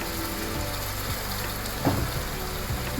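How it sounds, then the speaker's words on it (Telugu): Fried onions cooking with ground masala paste for chana dal curry, a steady close sizzle with a brief spatula scrape and stir partway through, no talk. "పచ్చి వాసన పోయేంత వరకు కూడా కొంచెం సేపు ఇలాగా ఫ్రై చేసుకోవాలండి"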